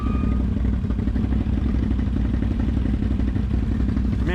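A Can-Am ATV on large SuperATV mud tyres idles through rough terrain. The engine drones steadily and loudly, with a low rumble and continuous mechanical clatter.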